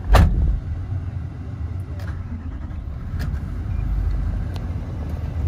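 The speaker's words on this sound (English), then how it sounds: "Give the car a quick start now." A 2019 Toyota Landcruiser Workmate dual cab with 12,000 km fires up, then its engine runs at a steady, close idle with a low rumble throughout.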